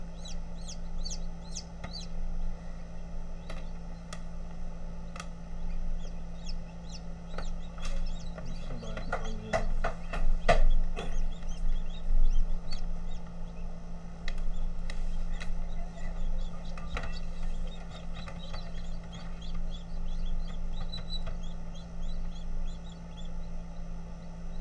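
Silkie bantam chickens clucking and cheeping around hatching eggs, a series of short calls bunched mid-clip over a steady low hum, close and moderately loud, no talking.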